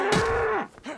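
A cow in the DayZ video game moos once, loud and close, in a sustained low call that bends downward, followed by a short second lowing sound.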